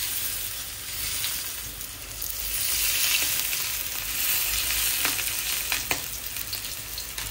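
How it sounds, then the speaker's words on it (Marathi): Prawns and a large fish fry on a flat pan over a high flame, a loud continuous close-up sizzle that swells and eases slightly with occasional crackles, no one talking. "गॅस फास्ट करून मी त्याला चांगलं भाजू देणार आहे"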